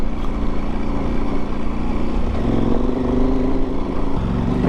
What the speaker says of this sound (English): I can't believe I rode this on my V-Strom.